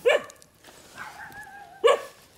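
Puppies bark near a hotel, two sharp close barks about two seconds apart with a soft whine between them, no talking.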